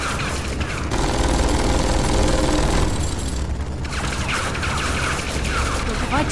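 Dense bursts of rapid gunfire in Tales from the Borderlands rattle almost continuously, loud and close, with a brief lull in the middle before the shooting resumes.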